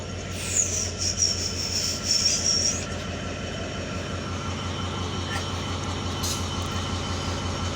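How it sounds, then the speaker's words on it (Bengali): The Nilsagar Express passenger train runs on rails in Bangladesh with its locomotive short hood first, giving a steady, close, rhythmic rumble of wheels on track and a thin high wheel squeal during the first few seconds. "শর্ট হুডে ট্রেন চলাচল করতেছে"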